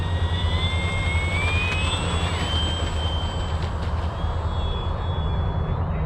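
FMS 1400mm F4U Corsair RC plane flying overhead, a steady electric whine that rises and shifts in pitch as it passes, over constant low wind rumble, no talking.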